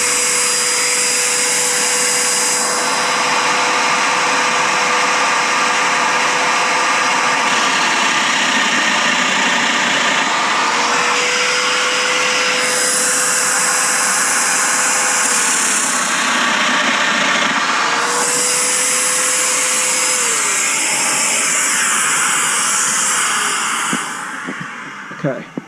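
A Festool Domino joiner runs with a steady high-pitched motor whine, rising in pitch during several cutting passes as mortises are plunged for a table frame build, continuous and close, ending abruptly as it powers down.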